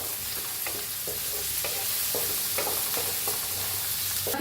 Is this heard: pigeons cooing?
no